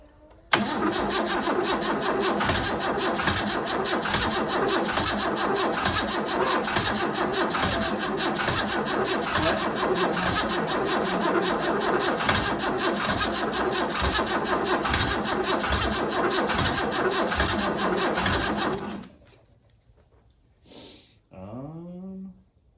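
An abandoned Chevrolet Cavalier's engine cranks steadily and loudly for about nineteen seconds with a fast rhythmic churn, failing to catch, then cuts off into near silence with a couple of faint brief noises at the end.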